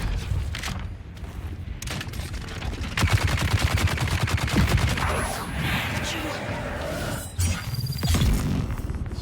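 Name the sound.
gunfire from heavy gunners in video game Dune: Awakening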